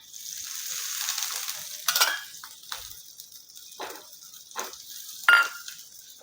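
Varai potato dosa sizzling in oil on a pan, a bright hiss that fades and flares in several short bursts, with faint clinks from the pan.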